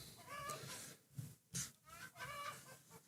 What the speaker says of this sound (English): You can listen to the chickens while I'm figuring this out.